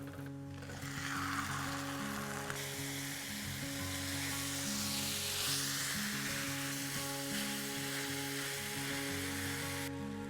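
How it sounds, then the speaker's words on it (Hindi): Onions frying slowly in a kadhai for achari chicken curry give a steady, close sizzle throughout, with a low, even hum underneath and no speech. "अभी धीरे धीरे प्याज को पकाना है"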